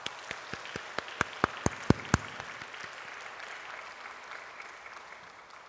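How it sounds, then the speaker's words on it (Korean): A church congregation claps after a Sunday service, starting as scattered individual claps and spreading into a soft room-wide applause that fades out. "다시 한번 박수로 영광 돌립시다."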